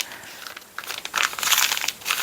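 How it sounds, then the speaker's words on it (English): Paper being folded into a flap for a soft cover upcycled journal, a short series of crisp crinkling rustles close by, brief and fairly quiet. "I'm trying to make sure that I'm folding it so that it's not"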